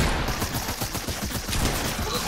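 Rapid gunfire in a video game, a dense continuous burst of loud shots filling the whole moment with no talking.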